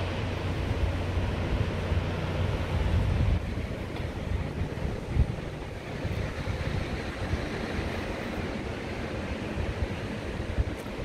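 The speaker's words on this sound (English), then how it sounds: "Can you hear the sounds of the ocean?" Ocean surf at Crescent Beach, North Myrtle Beach, heard from a resort balcony as a steady, broad wash of waves with wind rumbling on the microphone, continuous and without talk.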